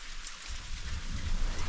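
Heavy rain pours down steadily in a rural outdoor setting, a dense continuous hiss of drops that grows slightly louder and fuller toward the end, with a low rumble underneath and no voices.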